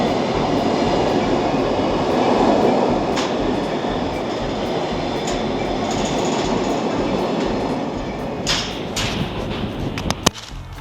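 A train rumbles past up close in Switzerland, a loud continuous roar of wheels on rails, with a few squeals and clicks as it fades.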